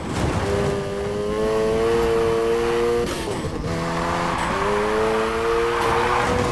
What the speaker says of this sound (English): Use the gas. Keep that drift going.